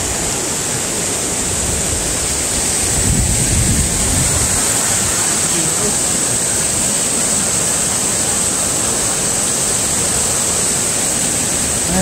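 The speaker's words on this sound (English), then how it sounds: "Especially with all that water running down." Steady, loud rush of a stream pouring down over rocks on a downstream walk, a dense broadband roar that holds constant from start to finish with a slight swell near the third second, no voices.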